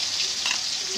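Tomatoes frying in a hot pan for shev bhaji, giving a steady, close sizzle with a faint stir in the middle and no talk.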